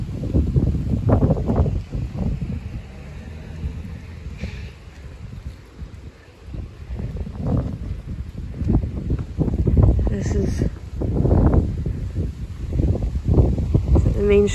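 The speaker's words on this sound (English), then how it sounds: "I do apologise about the sound of the wind, it is quite blowy today." Strong wind on a blowy day along the main street of a village, buffeting the microphone in loud, rumbling gusts that rise and fall throughout, with a voice faintly audible beneath the roar.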